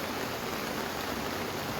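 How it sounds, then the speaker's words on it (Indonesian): Heavy rain pouring outdoors during a storm in Enrekang Regency, a steady, dense hiss of falling water that stays even and unbroken throughout. "Jadi di Kabupaten Nrekang saat ini juga sedang berlangsung hujan."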